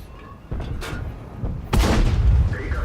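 A tank cannon firing in a World of Tanks tier 8 Clan Wars battle: a few dull thumps build to a heavy, close boom with a rumbling tail that lingers to the end.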